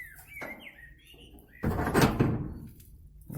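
Compost bin door at a country garden plot swung shut, with a squeak followed by a heavier clattering thunk and rattle, close by with no voices.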